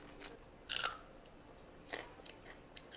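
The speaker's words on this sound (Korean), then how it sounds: "아삭하는 소리. 아삭아삭." Crisp crunching bites into a fresh, home-grown organic vegetable, two short snaps about a second apart with a few faint softer crunches after, close and quiet with no talk.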